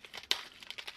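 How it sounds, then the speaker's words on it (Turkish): Quiet plastic crinkling and a single small snap come up close as the plastic candy compartment on a yogurt cup is opened. "Hemen renkli şekerlerin olduğu kısmı da açıyorum."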